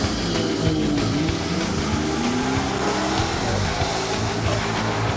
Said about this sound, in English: Spinning the wheels a little bit there, but then all of a sudden doing good at the big end of the track